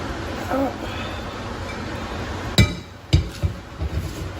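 A frying pan handled in a home kitchen gives two or three sharp metallic knocks and clanks over a steady background hum, close and moderately loud.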